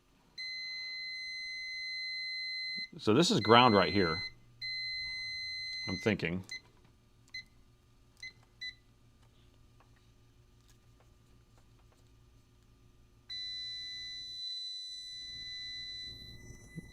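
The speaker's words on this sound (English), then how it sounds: "Sorry for the beeping, guys." Electronic beeps from a multimeter in diode mode on a laptop motherboard repair bench, steady tones sounding repeatedly at moderate loudness, with someone talking over and between them.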